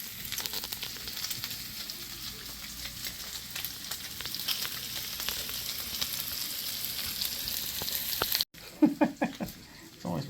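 Bacon sizzles in a pan with a steady, crackling hiss, close and continuous, a brief cut near the end followed by a few louder clatters.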